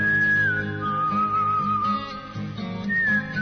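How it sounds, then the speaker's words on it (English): A man whistles a sustained melodic tune, clear and close, with steady held notes and small glides and no talk. "a man who can whistle."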